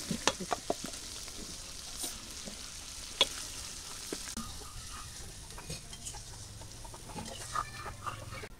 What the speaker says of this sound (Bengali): পটলটা একটু কষাই নেব, কারণ পটল ভালোভাবে তো আর ভাজি নেই